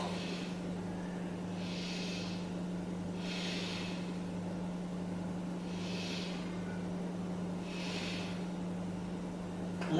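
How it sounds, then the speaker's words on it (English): Slow, deep belly breaths during a beginner yoga stretch, four soft airy breaths spaced a couple of seconds apart over a constant low hum in a quiet room. "Now breathe into the belly, 3 breaths."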